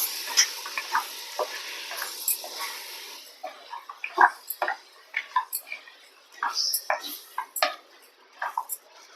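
Mutton stir-fried with masala in a clay pot, giving scattered clinks and scrapes of a spoon against the pot with a faint sizzle throughout, fairly close and fairly quiet.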